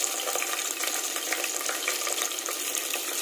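Seven green chillies fry in oil in a pressure cooker pan for vegetable rice and are stirred, giving a continuous close sizzle with soft scraping and no talking.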